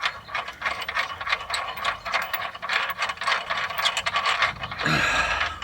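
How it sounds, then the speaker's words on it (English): A ratchet wrench clicks in quick repeated bursts as it turns a nut off a lower ball joint on a 2004 Mercedes C320 4Matic, close and steady, with a brief scrape of metal near the end. "And I'm turning the nut here."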